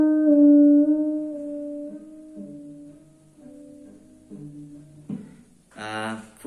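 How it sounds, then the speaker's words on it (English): Electric guitar notes sustained with a slow, wide vibrato that wobbles the pitch lazily, a series of held tones played alone and up close, ending in a brighter strummed or picked burst. "If you do it too slow, it sound like this."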